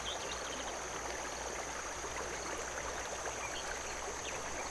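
A brook in the video game The Night of the Rabbit flows as a steady, even rush of water with a faint constant hiss, alone with no talking.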